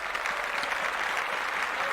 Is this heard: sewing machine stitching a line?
no